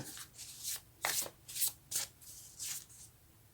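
Tarot cards are shuffled by hand in a run of soft, quick riffling swishes, about six brushing bursts in steady rhythm, close but quiet.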